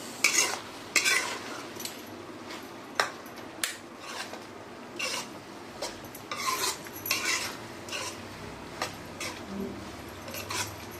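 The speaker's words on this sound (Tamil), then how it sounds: "உடைச்ச முட்டை 4 முட்டை நல்லா கலந்து கொடுத்துக்கணும்." A spoon scrapes and clinks in a pan while four broken eggs are stirred into a ridge gourd gravy, giving irregular metallic taps over a faint sizzle.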